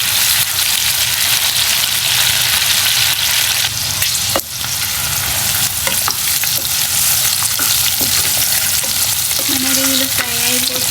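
Prawns frying in a pan, a loud, continuous sizzle with frequent stirring scrapes and clicks throughout, and no talking.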